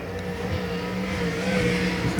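Sprint cars racing on a dirt oval at a speedway fill the air with a steady, loud, high-revving engine roar, several machines blending together and sustained throughout.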